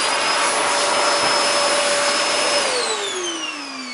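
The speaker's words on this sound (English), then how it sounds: "you may use your vacuum cleaner with some special brush on top" Vacuum cleaner fitted with a brush attachment cleaning a felt cat cave, a loud steady whine and rush of air that drops in pitch as the motor winds down over the last second or two.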